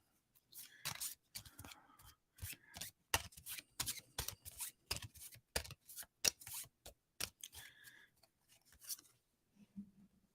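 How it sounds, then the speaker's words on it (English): Playing cards from the Illimat card game are shuffled and handled at close range, giving a quiet run of crisp flicking and riffling bursts with short pauses between them. "And I will shuffle these other ones out."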